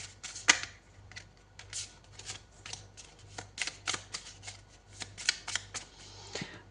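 Tarot cards shuffled by hand in a series of crisp riffling bursts and soft slaps, fairly close and quiet, with a faint steady hum beneath.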